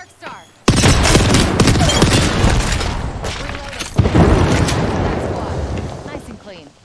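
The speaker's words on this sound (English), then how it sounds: "Chucking a frag grenade. Throwing an arc star." A frag grenade and an arc star blast in the video game Apex Legends, a loud booming explosion bursting in suddenly and rumbling on, then a second sharp blast a few seconds later decaying slowly.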